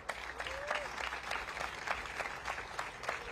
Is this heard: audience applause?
yes